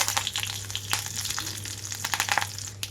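Mustard and other tempering seeds, small pieces of dried red chilli and curry leaves frying in hot oil, a continuous crackling sizzle with quick popping spits close by and a low steady hum underneath.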